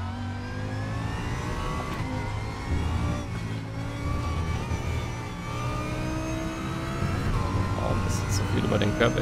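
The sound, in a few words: car engine revving on hard throttle in RaceRoom racing sim video game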